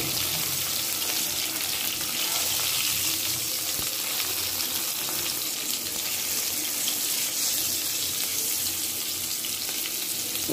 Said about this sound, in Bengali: টমেটোটা একটু হালকা করে ভেজে নিব।